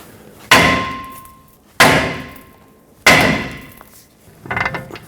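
Three sharp metallic hammer strikes ring out at even intervals on a 2003-2012 Chevrolet Colorado steering knuckle, knocking the ball joint stud loose, each hit decaying with a brief ring, followed by a softer rattling clatter.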